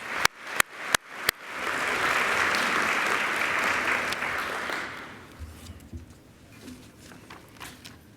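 Meeting attendees applaud supporting partners at a 2017 membership general meeting: a few sharp claps open, then a full steady round of clapping that fades out after about five seconds into quiet room noise.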